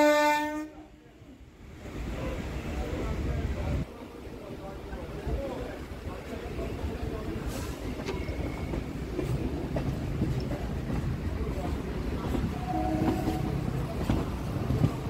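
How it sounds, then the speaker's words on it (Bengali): A local train on the Sealdah–BBD Bagh line near Kidderpore Dock and the Ganges bank sounds a horn in a loud opening blast. Rolling rumble and clatter follow as it moves, with a second brief horn later and a voice talking. "ওই ট্রেনটারও সিগন্যাল হয়ে গেছে।"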